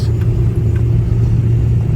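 A car engine straining under load, apparently from a failing fuel filter, gives a loud, close, continuous low rumble that holds steady with slight uneven wavering and no clear revving.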